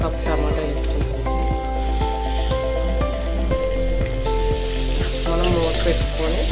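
Chopped tomato hits a pan of fried ginger-garlic paste for a cashew drumstick curry, sizzling loudly and steadily with stirring scrapes, while music plays underneath throughout.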